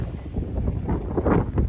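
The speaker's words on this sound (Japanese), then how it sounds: "野球場のところまで帰ってきたら結構吹きさらしで風が吹いてます" Strong wind gusting across an open, exposed snowy field near a baseball ground in Mitane, Akita, during a winter snowshoe hike, a steady close roar buffeting the microphone with no other sounds.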